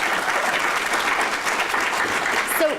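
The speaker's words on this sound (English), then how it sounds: "I think that absolutely deserves a round of applause" Dense, steady applause from an audience at a presentation on arts and economic prosperity, many hands clapping continuously and fairly close for a few seconds.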